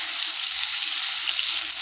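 Prawns fry in a pan with turmeric, giving a steady, bright oily sizzle that hisses evenly without pause.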